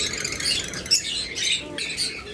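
Caged pet birds such as lovebirds, budgerigars and cockatiels chirp and squawk nearby in short bright bursts, several calls overlapping over a soft background murmur.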